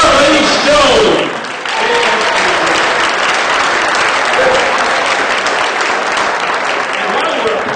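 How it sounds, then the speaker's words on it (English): At a charity dog auction event in 2015, a crowd breaks into loud, dense applause that carries on without pause after a brief dip near the start. "Nice round of applause for Charlie Stone!"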